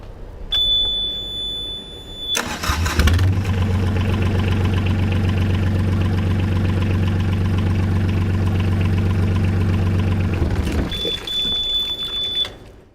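A marine diesel engine on a boat starts after a steady high warning buzzer. It runs with a loud, even, close rumble for about eight seconds, then shuts off as the buzzer tone returns.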